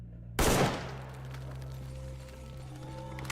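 A single loud, sharp gunshot in the S.T.A.L.K.E.R. GAMMA shooter game bursts out of near-silence, then rings off into a long, steady droning tail with a low hum underneath.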